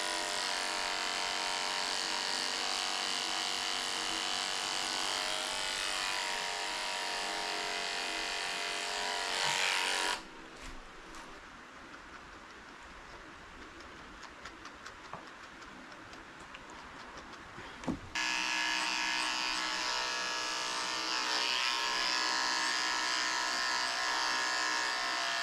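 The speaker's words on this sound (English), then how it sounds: "I'm shaving out the inside of his ears so I can see what I'm doing when I clean them out" Electric clippers buzz steadily while shaving the inside of a senior Shih Tzu's ears, a close, even motor hum that drops to a quieter, muffled stretch midway before returning at full strength.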